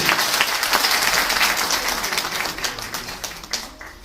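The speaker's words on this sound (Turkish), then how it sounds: "Şöyle daha güçlü bir alkış rica" Audience applause at a literary magazine short-story competition award night, a dense crowd of clapping hands, steady and fairly loud throughout, thinning slightly toward the end, with no talk.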